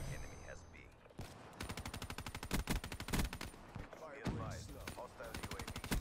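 Rapid automatic gunfire in Black Ops 3, a fast steady rattle of shots in repeated bursts, fairly close and continuous for most of the stretch.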